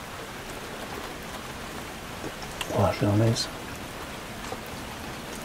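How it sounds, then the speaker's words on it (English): Steady rain patters on a parked car in the Trossachs in autumn, a constant soft hiss heard from inside, while a person speaks briefly partway through. "The rain's come on, and I'll sit here for 15-20 minutes just to let it pass"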